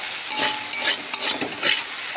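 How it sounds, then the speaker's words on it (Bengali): Potatoes for aloo bhaji fry in a generous amount of oil with a loud, close sizzle, broken by quick stirring strokes every half second or so, and nobody speaks. "ভালো করে ভাজিয়ে নিই আলু ভাজিটা"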